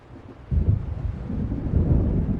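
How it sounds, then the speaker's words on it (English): Low rumbling thunder of an approaching storm in the Alan Wake video game, swelling suddenly after a quiet start and rolling on steadily, with a windy, rainy wash beneath it. "It seems there's a storm coming."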